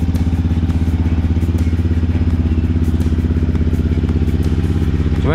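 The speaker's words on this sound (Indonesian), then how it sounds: "Suara mesin baru masih halus aja." A new Yamaha WR155R motorcycle with a stock ECU idles loud and close, its engine pulsing in a rapid, even beat with light mechanical clatter and no talk.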